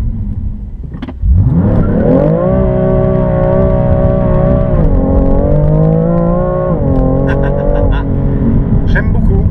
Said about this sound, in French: On va tout désactiver, on va faire un départ fumant.